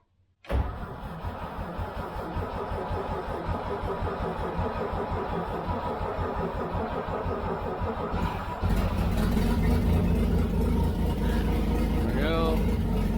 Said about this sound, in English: I'm gonna give it a little gas here.